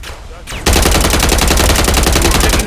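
Loud, rapid automatic gunfire from the Call of Duty video game bursts in after a short quieter lead-in. The shots keep up a dense, continuous rattle close by until near the end.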